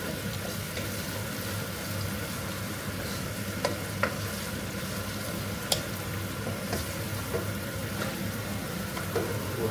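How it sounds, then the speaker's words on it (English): Garlic and ginger paste sizzling steadily in a pan for a vegetable korma, with occasional clinks and scrapes of a utensil stirring it, close and continuous, no talking. "Keep stirring it"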